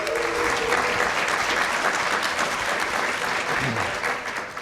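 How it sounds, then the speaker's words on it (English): An audience claps in sustained, dense applause that holds steady and then starts to taper off. "let's give them a round of applause"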